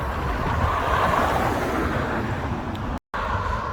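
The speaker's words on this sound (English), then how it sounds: "It's a bit windy, so bear with me." Steady wind buffeting the microphone outdoors in the Belgian-Dutch border town of Baarle-Hertog, a continuous broad rushing roar with one brief dropout, no talking.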